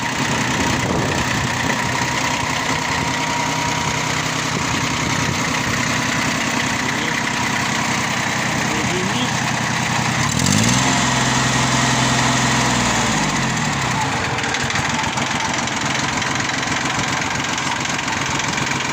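A Yanmar F-14 diesel compact tractor engine idles close by with a steady, even drone throughout and a brief change in pitch partway through; no one speaks.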